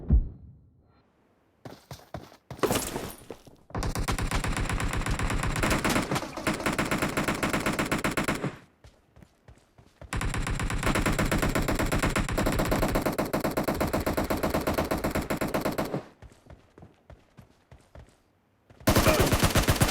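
Rapid automatic gunfire in the mobile game PUBG New State, long loud bursts of rattling shots separated by short pauses, with a few single shots at the start.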